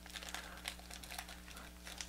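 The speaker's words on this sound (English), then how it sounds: "I'm going to push it down so I don't cut it with the scissors" Faint, close crinkling and rustling of a plastic blind bag being handled and cut open with scissors, soft irregular crackles over a low steady hum.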